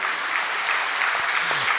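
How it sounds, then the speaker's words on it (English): Audience applauding at the 66th Foundation Day program of CSIR-CMERI in Durgapur, a steady, dense wash of hand claps filling the room without a break. "I think you can also clap."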